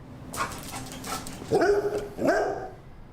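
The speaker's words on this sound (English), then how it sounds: "Didn't we get an attack dog?" Milo, a dog, barks twice in close, loud bursts, with a few softer yips and whimpers before them.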